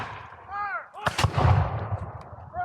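A volley of rifle fire at a battle reenactment skirmish, one sharp, loud blast booming close and echoing out, with shouting voices around it.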